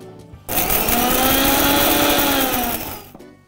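A kitchen mixer grinder whirs loudly up close for about two and a half seconds, then winds down, while preparing betel leaf rasam.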